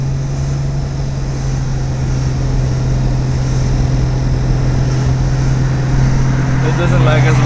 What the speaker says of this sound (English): Third gear shift.